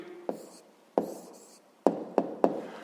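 A pen writes down a math answer in short scratchy bursts, five distinct strokes close up on paper with brief pauses between them and no talking.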